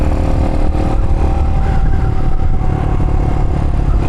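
A motorcycle engine screams at close to 6,000 RPM in top gear while cruising around 35 mph, a loud, steady, dense drone with no pauses.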